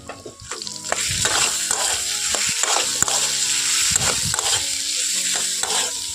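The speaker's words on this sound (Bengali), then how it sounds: "খুব ভালো করে মশলাটাকে আলুর মধ্যে ভেজে নেব" A ground paste of ginger, green chilli and cumin fries with potatoes for a pumpkin chokka. A close, continuous sizzle runs under repeated scraping strokes of a spatula stirring the pan.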